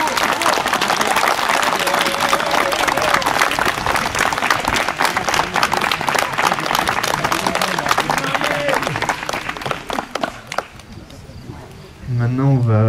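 Sustained applause from a crowd at a secular wedding ceremony, dense and steady, gradually thinning out near the end as a voice begins speaking.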